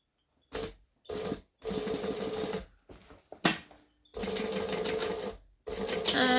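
A sewing machine stitches a crisscross onto a strap in several bursts, each run a few seconds long with short pauses between, where the needle is left down and the work pivoted.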